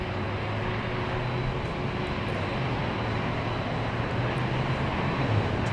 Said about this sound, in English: Our next arrival here in the north is JetBlue 323.